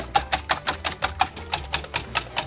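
Mayonnaise whisked by hand from raw ingredients in the kitchen of a local Japanese yoshoku restaurant: a steady run of quick, even strokes, about four per second, close and moderately loud with no talking.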